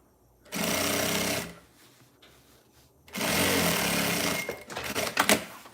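A sewing machine topstitches a seam on a small fabric pouch in two close bursts of rapid mechanical stitching, with a short quiet pause between them.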